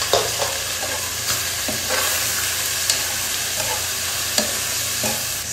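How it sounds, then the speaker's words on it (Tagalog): Onion, garlic and boiled squid stirred in a frying pan, a steady loud sizzle broken by repeated scraping strokes of a utensil against the pan. "i-mix natin ang ating sibuyas. At isunod na rin natin guys ang ating bawang"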